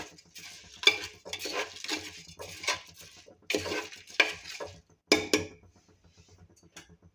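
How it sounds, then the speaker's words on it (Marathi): Rice is stirred together with vegetables in a pot for Indrayani rice matar pulao, a series of close scraping, clinking strokes of a spoon in an uneven rhythm, each stir a short gritty burst. "तांदूळ छान आपल्याला मिक्स करून घ्यायचे आहेत सगळ्या भाज्यांबरोबर"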